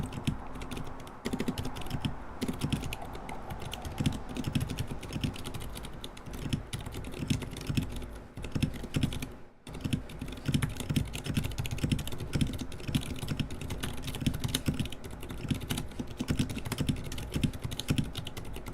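Continuous typing on a modified NK65 mechanical keyboard with lubed stabilizers, dense close keystroke clacks with a brief pause midway, no voices.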